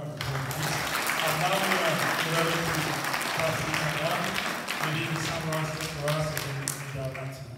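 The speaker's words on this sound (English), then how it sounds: "Let's give them a great round of applause." An audience at a missions convention applauds steadily and fairly loudly for several seconds while voices call out and sing over the clapping.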